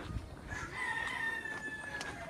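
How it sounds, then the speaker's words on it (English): A rooster crows once in a long, drawn-out call, somewhat distant, over steady outdoor background noise in Tuvalu. "Oh, and apparently roosters too."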